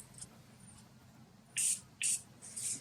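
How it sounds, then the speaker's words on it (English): Three short hissing bursts of Morphe makeup setting spray in quick succession, close and fairly loud, after a faint earlier spritz; no talking. "I'm going to use my Morphe spray to spray it"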